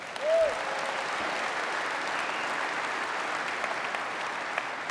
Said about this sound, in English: How about a round of applause for the NRA and all the staff people who've worked so hard to